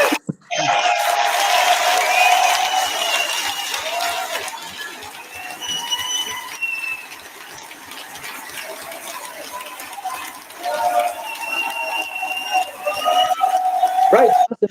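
Crowd applause and cheering at a political party event, a loud wash of clapping and shouts with bursts of cheering, voices rising above it near the end.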